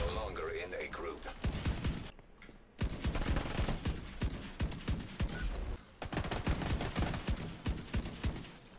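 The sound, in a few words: rifle gunfire in the video game The Division 2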